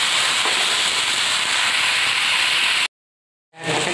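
Pieces of bottle gourd cooking in a pan give a loud, steady steamy hiss. It cuts out abruptly for a moment, then begins to return.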